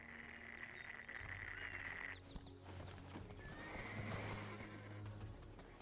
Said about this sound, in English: Get my horse over here while I wait.